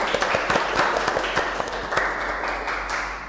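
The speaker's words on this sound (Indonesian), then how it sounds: "Tepuk tangan untuk kita semuanya." Applause at a nutrition podcast, a dense steady patter of clapping with a few louder close claps standing out over a constant low hum.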